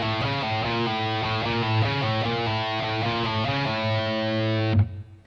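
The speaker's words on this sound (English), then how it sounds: "Now we're going to go back to that first riff, play it 3 times." Distorted electric guitar chugs through the opening riff of a song, a dense, driving run of palm-muted power chords played steadily before cutting off abruptly near the end, with no talking.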